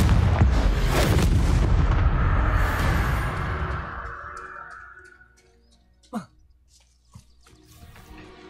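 The Confringo fire spell in the Hogwarts Legacy video game goes off as a loud booming blast that rumbles and fades over several seconds, with a couple of sharp smaller cracks afterward.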